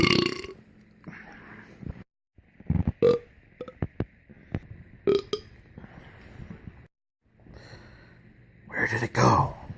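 Loud, drawn-out belches after a meal, several separate burps spread across the stretch with pauses between, the final one long and raspy, close to the microphone.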